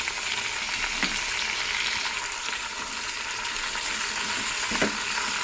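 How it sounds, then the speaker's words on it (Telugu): Ridge gourd, tomatoes and tamarind cook in a pan for chutney, giving a steady close sizzle with a few soft stirring scrapes and no talk. "ఇప్పుడు ఇందులోకి టమోటాలు మరియు చింతపండు కూడా వేసి మగ్గించేస్తున్నాను"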